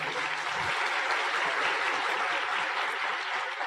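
Applause from a seminar audience at a motivational business talk, a dense steady wash of many hands clapping that fills the whole stretch at moderate level.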